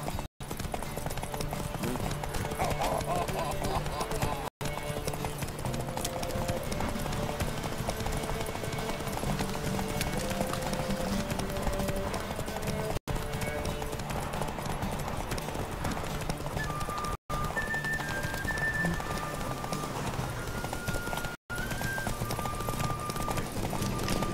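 Horse hooves clip-clop in a fast, steady galloping rhythm throughout, close and continuous, with faint background music and no clear talk.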